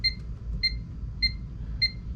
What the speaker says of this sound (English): that's a lot of beeping